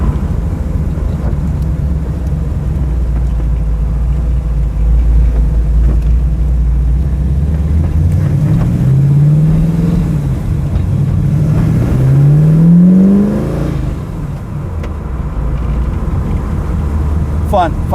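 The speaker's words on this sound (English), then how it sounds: "Fun car to drive, a real head turner." A Ford GT40 engine rumbles low while driving at Chesney Park near Rockford, Illinois, then revs up in two rising sweeps before settling back to a steady drone, fairly loud and close.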